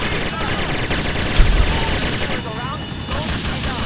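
Rapid bursts of FN P90 submachine gun fire in a modded GTA IV game, with dense continuous automatic shots, a heavier boom near the middle and no speech.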